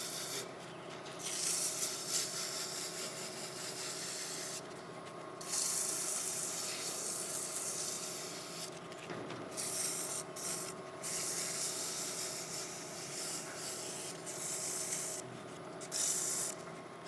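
Sandpaper rubs against a turned wooden cup spinning on a lathe, giving a steady close hiss with brief pauses as the paper lifts away from the wood.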